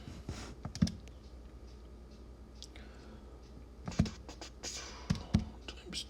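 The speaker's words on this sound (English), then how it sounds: "You just have to type this in the calculator." Numbers are tapped into a calculator as a scattering of soft, quiet key clicks, some in quick pairs, spread over a faint room background.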